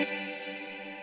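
A mandolin chord plucked once through an HX Stomp reverb and effects pedal rings out with a bright attack and a shimmering, sustained decay that fades over about a second.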